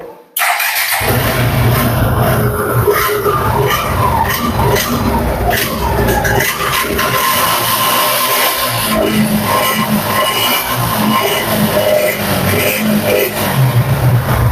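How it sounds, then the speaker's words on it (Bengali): A second-hand Suzuki Gixxer 155cc motorcycle starts up and runs loud and close, its engine note holding a steady roar with some revving throughout. "বাইকটির এখন সাউন্ড কন্ডিশন দেখতে পাচ্ছেন বাইকটি আমি স্টার্ট দেই"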